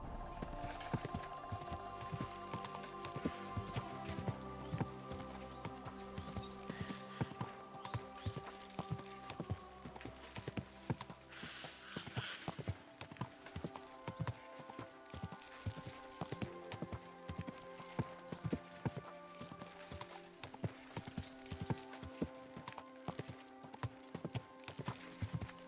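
Horse hooves clip-clopping in a video game on a long trek, a steady rhythmic run of hoofbeats throughout, set against a continuous tonal game music bed.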